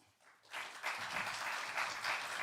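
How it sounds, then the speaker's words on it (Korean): A congregation at a Daesin University chapel service breaks into applause to welcome the pastor; after a quiet half second, dense, sustained clapping swells and stays loud and steady to the end. "목사님 나오실 때 한 번 더 박수하겠습니다"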